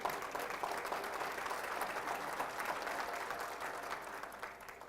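Steady, full applause from a large audience at a 2015 State of the City Address, sustained and fairly loud for about five seconds with no break, tapering slightly at the end.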